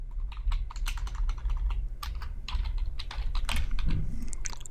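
Someone types a database query on a computer keyboard in a quick, continuous run of close, crisp key clicks, with heavier thumps from the larger keys toward the end. No one speaks.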